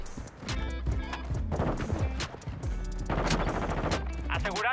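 Rapid bursts of gunfire crackle in quick volleys with synthetic game-like effects in Call of Duty, steady and fairly close throughout.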